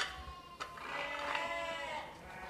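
A sheep or ewe on a farm gives a drawn-out, wavering bleat that rises mid-clip and fades, fairly close, with low background rumble and no speech.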